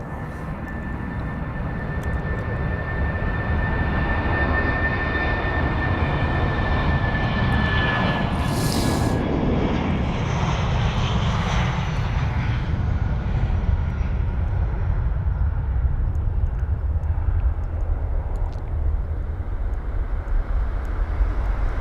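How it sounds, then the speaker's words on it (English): A 22-year-old British Airways Airbus A319 jet moves along the runway at Heathrow, giving a steady, loud engine roar and broadband rumble that holds throughout, with a faint high whine early on and no talk. "BA1334, British Airways A319 heading to Newcastle on the runway now."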